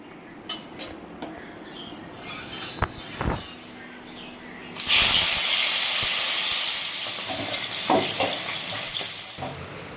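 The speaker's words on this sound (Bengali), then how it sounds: "এবার ইলিশ মাছগুলো ভাজা হবে" Hilsa fish frying in a pan for a khichuri meal: a few quiet clinks and utensil taps come first, then a sudden loud, hissing sizzle bursts in halfway and stays strong to the end.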